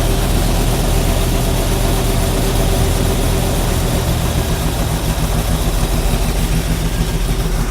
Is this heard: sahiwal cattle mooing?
no